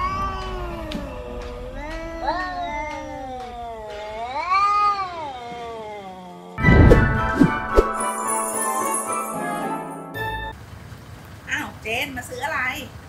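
A cat yowls and caterwauls as if in pain, with long, wavering, rising and falling cries that are close and loud. A jingling, clattering burst and other noises follow, and people talk at points.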